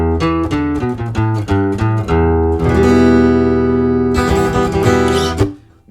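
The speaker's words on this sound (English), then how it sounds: "maybe just a little bit of reverb would sound like this." An acoustic guitar DI signal with a little reverb plays a run of plucked notes, then sustained strummed chords that ring out and fade at the end, loud and alone.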